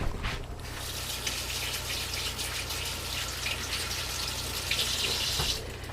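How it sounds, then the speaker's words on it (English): A spoon is rinsed under a running kitchen tap, making a steady rushing gush of water into a sink with faint clinks. The sound is close and continuous, and no one speaks. "Wash the spoon."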